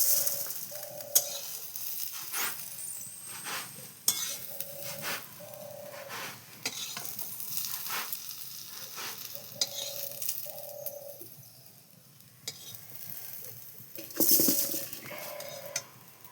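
Peas, flat beans and carrots frying together in a wok, with recurring scrapes and clinks of a spatula stirring through a steady soft sizzle, close and fairly quiet.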